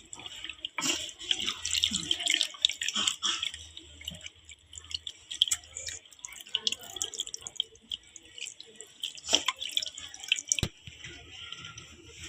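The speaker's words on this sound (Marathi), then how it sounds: "आता त्याच्यात पाणी घालायचं आहे" Water is poured into a bowl, running and dripping in uneven splashes and trickles, close by, with no talking.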